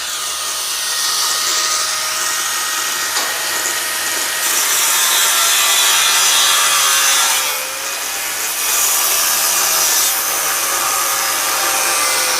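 Continuous saw cutting through a metal canopy part being split in two during soundproof canopy manufacture, loud and close with a steady grinding rasp that dips briefly near the end before resuming.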